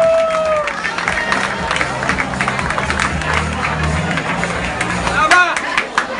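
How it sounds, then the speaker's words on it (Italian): An audience at a fashion show at a Milan beach club claps and cheers amid crowd chatter and background music, with voices talking over the noise. "fa un bellissimo applauso, Laura"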